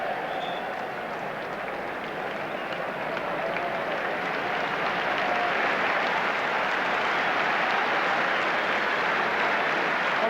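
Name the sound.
applause for a substituted football player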